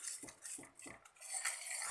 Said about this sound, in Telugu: బాగా కలిసే వరకు కలుపుకోవాలి